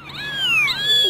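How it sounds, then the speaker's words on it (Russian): High, wavering mews from three kittens overlap and slide in pitch, fairly close and steady, outdoors on a lawn, with no talking. "И все мяукают"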